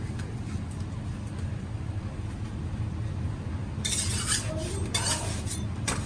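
Pink gel paste colour is worked into a batch of candy with steady mixing scrapes and clinks against the pot, over a constant low background hum, growing brighter and busier toward the end.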